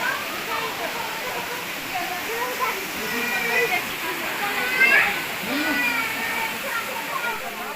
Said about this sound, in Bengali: এই যে আপনারা ঝর্নার মূল স্রোত দেখতে পাচ্ছেন